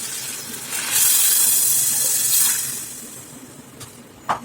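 Water is poured into a pan of frying mutton with turmeric, giving a loud sizzling hiss that swells for a couple of seconds and then fades, with a sharp crackle near the end.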